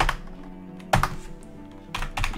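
Keys on a faulty computer keyboard are struck in three separate clusters of close clicks and thumps, with quiet pauses between them.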